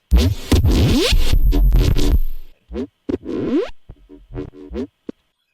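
An unprocessed, thin-sounding synth bass sample with granulizer automations, played alone in choppy bursts: a long dense gritty phrase followed by short stuttering fragments and a final brief blip.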